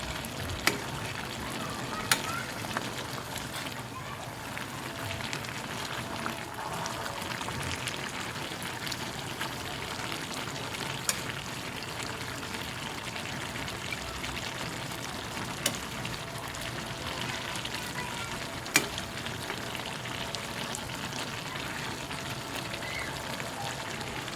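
Coconut milk is squeezed from grated coconut for ginataang papaya, making a soft continuous trickling and splashing pour with a few faint taps, moderately quiet and steady throughout.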